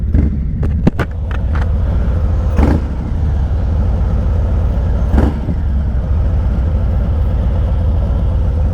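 A Harley-Davidson motorcycle on a dealership demo ride runs with a deep, loud, steady engine rumble close by, broken by a few short sharp knocks and bursts of wind or handling noise.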